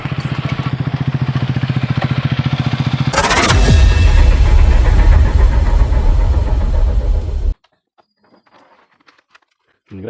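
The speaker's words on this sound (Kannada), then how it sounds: "ಎಕ್ಸಾಸ್ಟೇ ಒಂಥರ ಚೆನ್ನಾಗೈತೆ ಗುರು ಗಾಡಿದು" Exhaust of a Hero Karizma XMR motorcycle: a rapid, even idle thrum, then a loud surge as the engine revs up and holds a throaty roar before cutting off abruptly, close to the bike.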